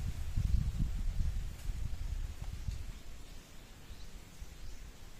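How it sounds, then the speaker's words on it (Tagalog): Wind gusting outdoors on Sibay Island, with low rumbling buffets loudest early on and a soft, steady rustle of leaves continuing beneath, no talk. "Mahangin."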